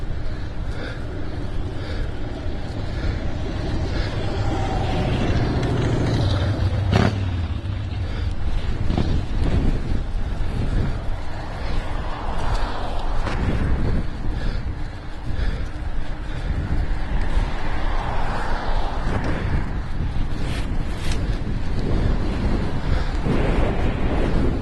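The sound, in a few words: high wind during motorcycle ride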